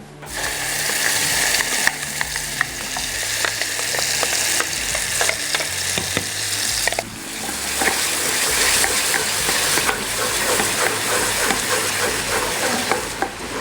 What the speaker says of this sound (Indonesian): Lalu kita akan tumis si bumbu halusnya.